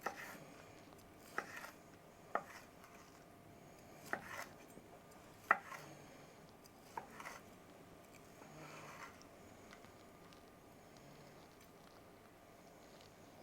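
Knife cutting through the seared crust of an A5 Japanese wagyu steak, a series of faint, sharp crunchy strokes spaced about a second apart over a quiet background, with no talk.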